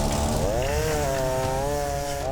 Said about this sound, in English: uses a chainsaw to carve up the ice